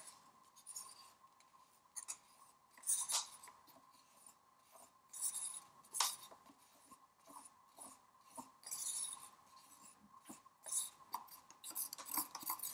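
A stick scrapes and stirs two-part tabletop resin in a separate cup, making quiet rhythmic rasping and clinking strokes against the sides, close up with no talking.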